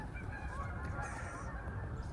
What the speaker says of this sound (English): Here comes some geese. Hear them?